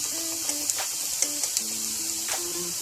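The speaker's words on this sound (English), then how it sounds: "I just love the sizzle sound." Onions or garlic sizzling in a hot pan over medium to high heat, a faint continuous hiss with small pops, heard under quiet background tones.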